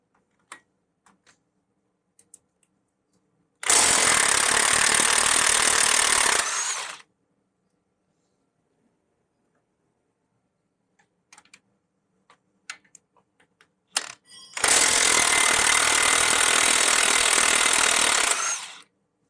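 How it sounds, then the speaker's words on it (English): Two loud bursts from a power tool, probably an impact gun, undo 21mm top hub bolts on the shock absorber of a Renault Trafic van. Each burst lasts about three seconds, with quiet clicks and tool handling between them and no talk. "Next, we're going to undo our top hub bolts to the shock absorber. Need a 21mm spanner and socket for that."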